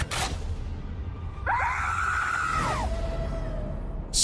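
A scream from the horror film The Strangers: Chapter 1, heard in a trailer as one rising, wavering shriek lasting over a second and sitting over a steady, loud dark musical bed.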